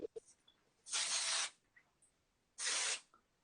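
Two short, loud hissing bursts of hair texture spray, close to the microphone, separated by a brief pause with faint handling sounds.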